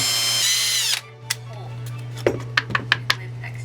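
A power drill whirs briefly while boring holes through thick, heavy mat board cards, then stops, followed by a steady low hum and several sharp clicks and taps of handling.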